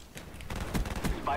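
Bursts of gunfire from Call of Duty: Black Ops on Xbox crackle in quick cracks mixed with other game sounds and a voice.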